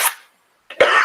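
A person coughs twice while carefully snipping stitches with nippers during a sewing project, a short cough burst at the start, a brief silence, then a louder, harsher cough close to the microphone.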